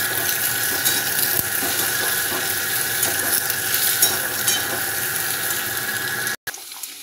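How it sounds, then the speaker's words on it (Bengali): Carrots and beans frying in a pan after a cumin and dried red chilli tempering, giving a steady close sizzle with faint stirring and scraping, no talk, cutting out briefly near the end. "এবার গাজর আর বিনসটা ভালো করে ভাজবো।"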